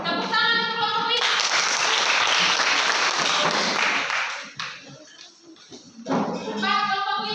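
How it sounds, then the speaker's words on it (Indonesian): Audience applause for a student group at a classroom session, a loud continuous burst of clapping that lasts about three and a half seconds, then fades. Someone speaks before and after it. "Tepuk tangan untuk kelompok 5."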